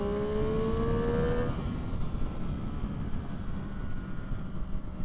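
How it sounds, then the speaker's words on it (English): A 2022 Triumph Street Triple RS 765 motorcycle on stock exhaust snarls as the revs climb and drop through a gear, then carries on at a steady, rough engine roar under wind noise. "And that motor, that snarl, even with the stock exhaust"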